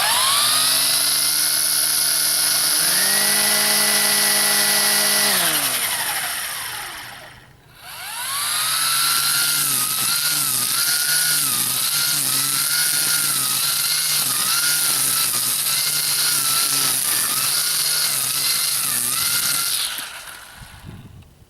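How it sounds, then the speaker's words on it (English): Ryobi cordless string trimmers, an 18-volt brushless and a 40-volt, run on high: a loud, high-pitched motor whine that ramps up, cuts out briefly, then restarts with a wavering, slightly pulsing tone before stopping. "Now I'm going to switch it to high. And now you can compare it again to the 40-volt."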